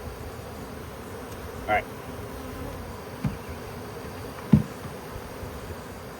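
A honey bee swarm gives a steady, faint, low hum throughout, broken by a few soft knocks, and a voice speaks briefly.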